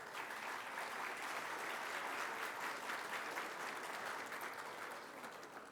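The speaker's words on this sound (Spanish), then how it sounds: "Un aplauso, por favor." Steady applause from a seated audience at the opening welcome of an international conference, a dense even clapping that holds for several seconds and then begins to taper, with no voices over it.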